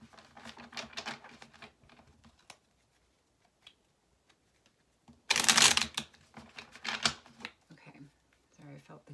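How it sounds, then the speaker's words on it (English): Tarot cards being shuffled during a reading, brisk riffling bursts that come early and again more loudly midway, with a voice talking in between. "I felt the need to shuffle those a little bit more."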